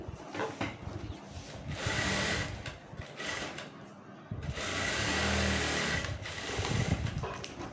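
Sewing machine stitching dress pants to the waistband, running in uneven bursts with brief pauses, a steady close mechanical whir with a louder sustained stretch near the end.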